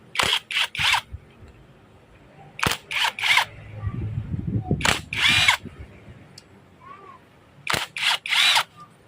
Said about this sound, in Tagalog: Gamitin natin ay impact drive.